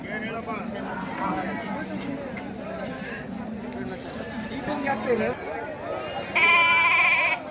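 Goats bleat over busy crowd chatter at a Monday sheep and goat market in Rampur, with one loud, drawn-out bleat standing out near the end.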